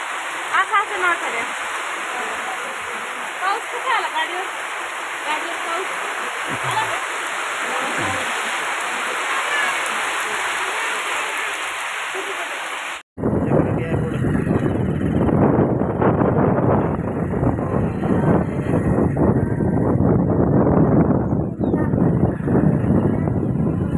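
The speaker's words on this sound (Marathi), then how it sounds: "पाऊस पाऊस" Heavy rain pours steadily throughout, a dense roaring hiss that turns deeper and louder partway through, with voices faintly underneath.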